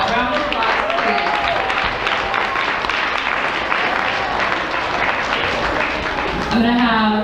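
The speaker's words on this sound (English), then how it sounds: "round of applause, please" A sixth-grade school assembly audience gives a sustained round of applause, dense clapping filling several seconds, with faint voices and a speaker talking briefly at the start and end.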